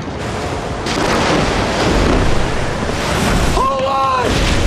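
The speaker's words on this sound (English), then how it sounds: "The waves are 20 feet high, building!" Ocean waves at sea in a dramatic film scene: a loud, continuous roar of surf and wind rushing close by, with a brief tonal creak or cry near the end.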